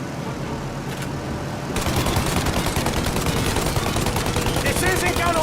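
Gunfire in Mafia: Definitive Edition starts after a quieter opening of engine rumble, then bursts into dense, loud, continuous automatic shooting that fills the rest of the clip.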